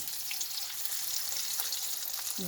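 Potatoes fry for egg curry with a steady, bright sizzle of oil in a pan, close and continuous throughout, with a faint clink near the end and no speech.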